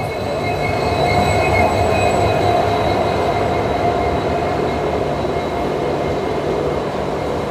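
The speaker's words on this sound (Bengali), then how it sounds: "WDP4 খুব সম্ভবত লোকাল ট্রেন" A local train hauled by a WDP4 diesel locomotive rolls past on a single line through forest country between NJP and Alipurduar, a loud, steady, close rumble of wheels and engine with a faint high whine running throughout.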